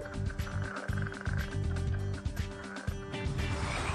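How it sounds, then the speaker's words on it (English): Northern leopard frog calling in a steady stream of rough, rattling croaks and snore-like pulses, close and loud throughout with no voices. "Starting with the northern leopard frog."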